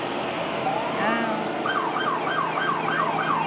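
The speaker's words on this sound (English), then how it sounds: "here come the sirens" A siren wails in repeated rising and falling sweeps over a steady outdoor crowd hum at a town parade, likely fire department, fairly prominent and continuous.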